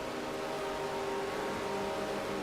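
Race cars at the Rolex 24 endurance race, including a BMW, a Porsche and a McLaren, running close together: a loud, continuous engine roar with a steady revving drone and no pauses.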